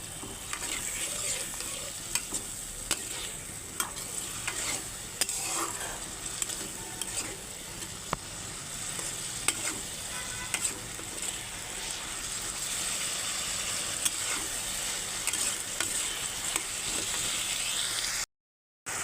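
Fish heads and potatoes sautéing with spices and a splash of water in a pan, a continuous close sizzle broken by frequent scraping stirs and utensil clicks, steady and fairly loud, cutting off abruptly near the end.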